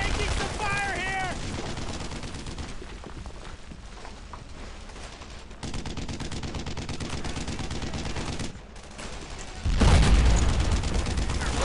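Gunfire in the World War II shooter Brothers in Arms: Earned in Blood, dense rapid bursts of rifle and machine-gun fire with booming impacts, loud and continuous, with a voice talking over it.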